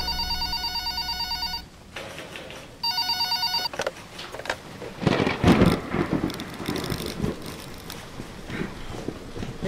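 Rain and a thunderstorm, with steady rainfall and a low rumbling roll of thunder swelling mid-way, heard after two bursts of an electronic ringing tone at the start.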